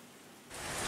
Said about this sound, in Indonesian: baru hari ini memang hujannya deras